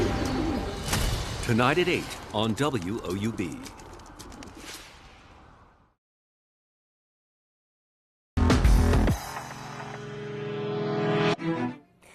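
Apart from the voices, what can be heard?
pigeons cooing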